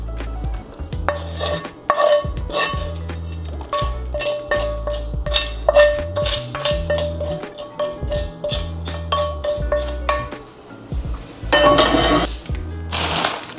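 Sautéed beef is moved into a dish with metal utensils, giving repeated close clinks, scrapes and knocks of cutlery against cookware in an irregular rhythm throughout, with no talking.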